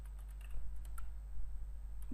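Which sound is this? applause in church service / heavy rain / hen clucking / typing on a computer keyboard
typing on a computer keyboard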